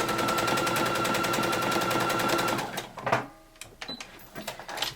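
A sewing machine runs a zigzag stitch on knit fabric with a fast, even, rattling buzz for a few seconds, then stops, leaving quiet handling noises and small clicks nearby.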